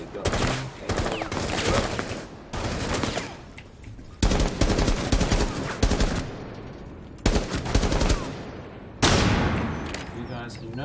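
Gunfire in Rainbow Six Siege, with several loud bursts of rapid automatic shooting separated by brief quieter gaps, heard close and intense, with a voice talking at times.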